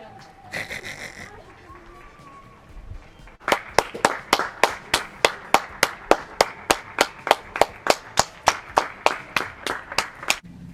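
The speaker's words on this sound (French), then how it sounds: "Ça va être l'heure d'applaudir." During the lockdown, scattered neighbours' clapping starts after a brief pause with a voice and other noises, then settles into sharp, rhythmic claps echoing steadily, like one person clapping fairly close amid distant applause.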